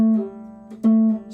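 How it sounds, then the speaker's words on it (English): A ukulele pull-off: a sustained plucked note, then a quick finger lift off the string that sets a new tone ringing, heard close and alone with no talking. "Next one is a pull-off, which is the opposite of a hammer-on."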